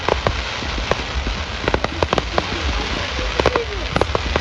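Outdoor fireworks at the St Albans fireworks spectacular 2022: repeated sharp bangs and crackles burst at irregular intervals over a steady crowd and ambient rumble, fairly close and loud.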